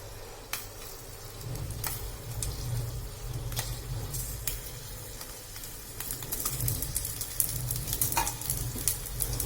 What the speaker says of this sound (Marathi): आता आपण त्याच्यात एक एक शिमला मिरची ठेवून घ्यायची आहे सर्व साईडने आपल्याला तिला छान फ्राय करायची आहे